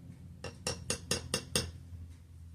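A small spoon scooping mushroom chicory blend clinks against a cup about six times in a quick, even rhythm, close and clear in a quiet room.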